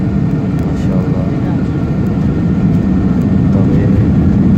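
An airplane engine roars in a steady, loud, low drone with a constant whir, heard from inside the plane at Allama Iqbal International Airport in Lahore.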